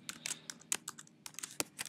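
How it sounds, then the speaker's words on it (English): Typing on a computer keyboard while entering HTML code, a quick uneven patter of close, crisp key clicks with brief pauses between bursts, no voices. "I start typing the header"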